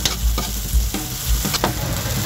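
Onion sizzles and fries in garlic-infused oil in a pan, a steady close crackle with several louder stirring scrapes at intervals, no voices.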